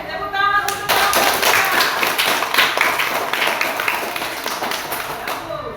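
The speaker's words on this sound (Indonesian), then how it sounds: "tepuk tangan untuk kelompok" Classroom of students clapping for group 3 after a religious-education presentation, a dense burst of many hands lasting several seconds, loud and close with chatter mixed in, fading near the end.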